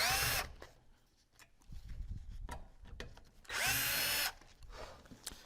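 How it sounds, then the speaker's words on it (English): Power tool taking out casing bolts on a pump during a seal replacement, with two loud whirring bursts and quieter clanks and handling noises between them. "we're going to remove every one of these casing bolts"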